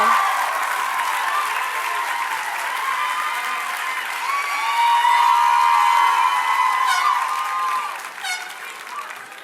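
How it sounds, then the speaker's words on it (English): Graduates at a 2014 USC Rossier master's commencement clap and cheer loudly and steadily, with whoops and shouts rising through the sustained applause before it fades near the end. "Clap for yourselves."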